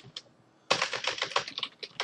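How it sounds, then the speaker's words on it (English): Rapid typing on a computer keyboard follows a brief pause, a dense burst of close key clicks in an uneven rhythm, alone without talk. "That was if you're actually typing in the right spot."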